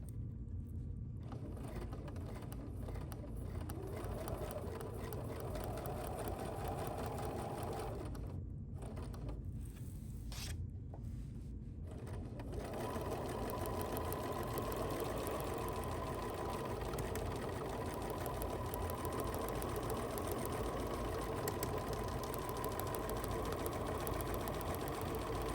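A quilting sewing machine runs at a low, steady level while stitching an orange peel design, with a couple of brief pauses partway through before the whirring resumes and continues to the end.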